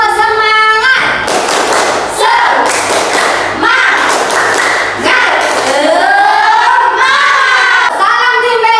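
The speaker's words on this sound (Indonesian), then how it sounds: "Tepuk semangat." Children perform a rhythmic spirit clap in a classroom, loud bursts of claps and thumps in a steady pattern mixed with chanted voices.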